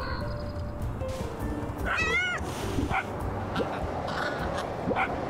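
Dogs barking in the street in the game Little Kitty, Big City, a few short yips and barks in the middle of the scene over a steady background of game ambience and music.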